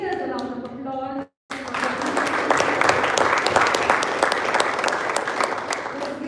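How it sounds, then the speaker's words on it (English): Sustained applause from the room for the speakers at a Toastmasters speech marathon meeting, a full, even crowd of clapping that follows a brief spoken line and runs to the end. "Let's give all the speakers a round of applause."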